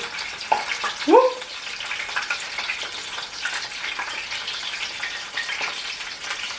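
Constant soft sizzling and crackling of tofu fingers frying in a pan, with a couple of brief clinks near the start.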